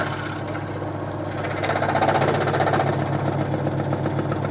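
Scroll saw blade cutting curves and angles in a piece of wood, a steady mechanical buzz with rapid rhythmic vibration that grows louder partway through and runs continuously without talk.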